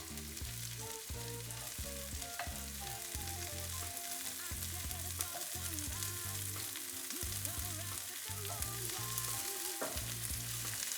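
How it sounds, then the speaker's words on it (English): Mushrooms frying in a pan, cooked first to drive out moisture for a vegan Salisbury steak, giving a steady, close sizzle with bursts of crackle and occasional stirring scrapes, no voices. "I'm gonna add the mushrooms first, just to remove that moisture"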